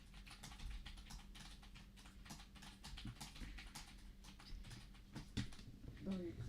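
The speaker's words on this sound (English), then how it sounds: "you're clicking so loud my shrimp can hear it" Rapid, loud clicking on a computer keyboard during a Fortnite gaming session: dense, irregular keystrokes clatter steadily and close by, with faint voices in the background.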